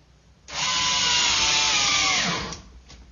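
A power drill drives screws to fix an Intervac central vacuum unit into a wall, one loud continuous whirring run of about two seconds that winds down at the end, with no voices.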